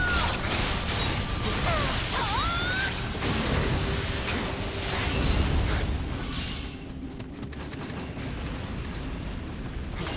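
Booby trap mechanisms clank and grind in the Nioh video game amid a dense wash of game noise, with brief sliding tonal sweeps early and rumbling bursts through the middle.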